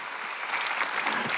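A congregation at a Korean church Sunday service breaks into applause, a steady, even wash of many hands clapping together, somewhat distant, with no voices over it.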